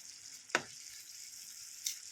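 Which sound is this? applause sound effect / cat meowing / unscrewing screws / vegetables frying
vegetables frying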